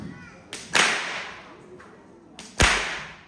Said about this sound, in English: So there's 2 methods that we use to crack the whip